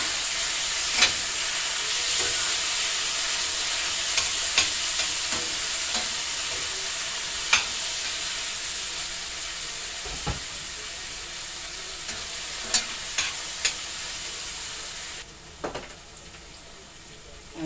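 Cabbage stir-frying in a pan, a steady loud sizzle and hiss throughout, punctuated by occasional sharp clicks and scrapes of stirring, with no talking.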